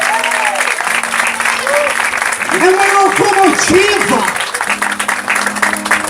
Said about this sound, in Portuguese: Aplaude aí esse homem.